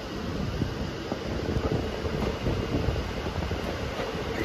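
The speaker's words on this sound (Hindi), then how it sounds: "अपनी ट्रेन जो है बड़का स्टेशन से डिपार्चर हो चुकी है" A passenger train leaving a station in the early morning on the Shamli–Delhi line rumbles steadily with rolling wheel noise and some wind buffeting, fairly close and without speech.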